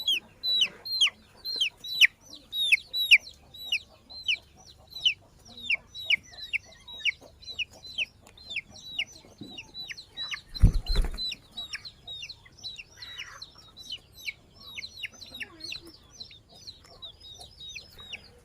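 Chickens and ducks cluck and chatter repeatedly in quick bursts, fairly close, with a brief low thump partway through and no talking.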